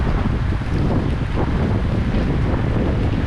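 Strong wind buffets a sailboat at sea off Cape Verde in heavy rain, a steady loud roar with gusty rumbling against the microphone, waves faintly underneath, no voices.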